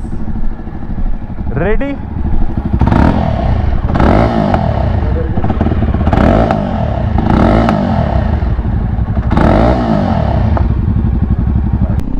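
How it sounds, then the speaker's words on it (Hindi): A Jawa Perak motorcycle engine idles and revs in loud repeated bursts close by, with clattery mechanical noise between throttle blips and a brief spoken word near the start. "आज हम चला रहे हैं जावा का पेराक, one of the most good looking bike available in Indian manufacturing"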